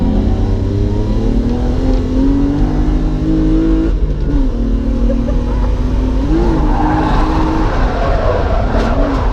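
A car drifts around the Driftland UK track, its engine revving loudly and steadily throughout with rising and dipping pitch, tyres squealing over continuous road roar, close and intense.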